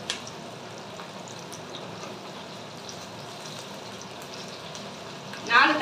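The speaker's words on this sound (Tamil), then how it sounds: "வெங்காயம் தக்காளிலாம் நல்லா வதங்கிடுச்சு." Onions and tomatoes sauté in a pan for a curry with river crab, giving a steady, even sizzle close by that rises into a brief, louder scrape or hiss right at the end.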